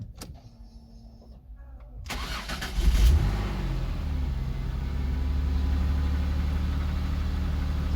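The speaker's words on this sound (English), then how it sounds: "I'm going to start the engine up" A Ford Mondeo Mk3 ST220 engine cranks and fires after some quiet clicks, then settles into a steady, smooth idle with a low rumble, close and clear.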